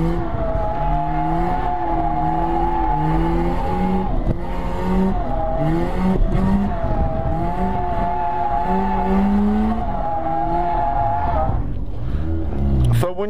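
A car drifting with a clutch kick and wheel spin, engine revving hard and loud with rising and falling pitch, tires squealing close by, and people talking over it.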